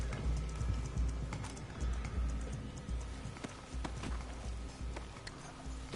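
Horse hooves gallop across ground in the Western game Red Dead Redemption II, a rapid, fairly quiet drumming rhythm buried in a busy wash of game noise with no voices.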